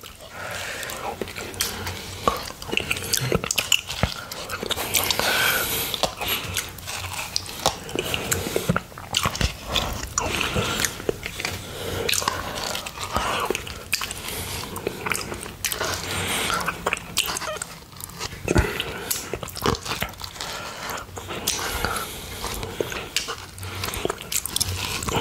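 Strawberries dipped in Greek-style blueberry yoghurt are eaten close to the microphone, with steady wet biting, squishing and chewing that continue throughout.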